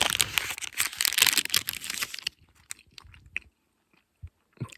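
Someone chews a Clif Bar Crunchy Peanut Butter energy bar on a Lycian Way thru-hike, with close, dense crunching for a couple of seconds that thins to scattered soft bites and pauses.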